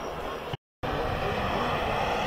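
A model jet aircraft roars past at an airshow in Soest Bad Sassendorf, a loud, steady broadband rush broken by a brief gap of silence, then resuming at full strength.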